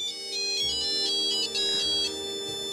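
A phone ringtone plays continuously at moderate volume, a melodic electronic tone pattern repeating over a low room hum, with no one speaking over it.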